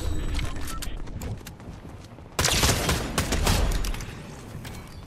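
Bursts of rapid gunfire in Fortnite, a quieter stretch of shots followed by a sudden loud sustained volley that tails off near the end.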